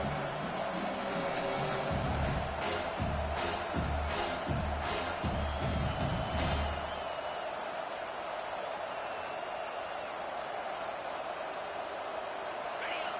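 A stadium crowd roars after a big third-down play in a football video game. Commentary runs over the first half, then a broad, sustained cheer carries on alone at moderate volume.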